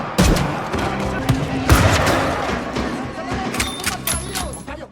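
Gunfire from a film shootout between a special-forces team and cartel gunmen: a dense run of sharp shots and bursts, loud and close, with a heavy boom near the middle, over a busy action soundtrack.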